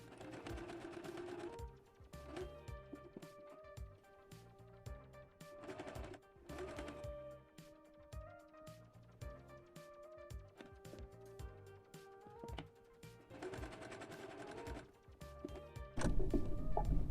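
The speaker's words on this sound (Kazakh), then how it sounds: "Айналдырып тігіп шығатын боламыз." Electric sewing machine stitching fabric strips for Kazakh kurak patchwork, running in several steady bursts with short pauses between them, close and fairly quiet, with no talking.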